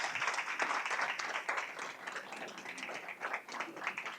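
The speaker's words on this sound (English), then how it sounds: "So let's give a round of applause for our children as they come." Sustained audience applause for children at a Black History Month celebration held by the Village of Hoffman Estates, a dense steady clatter of many hands filling the room without a break for about four seconds.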